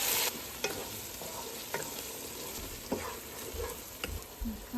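Mint and coriander sautéing in a pan give a steady soft sizzle, broken by a few sharp scrapes of stirring at irregular intervals, close by with no talking.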